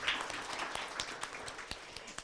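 An audience claps in a quiet, distant patter of scattered hand claps, faint and thin, with a few sharper individual claps standing out.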